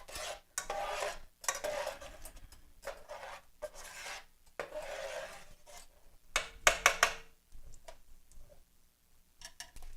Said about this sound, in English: I'm going to go ahead and cook my spinach in it as well.